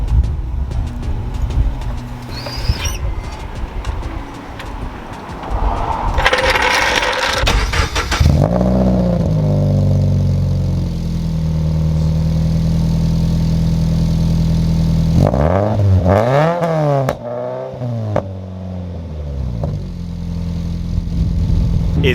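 A Subaru BRZ with a Megan Racing exhaust and a missing exhaust gasket cranks and fires up, then settles into a loud, close idle with several sharp revs that rise and fall.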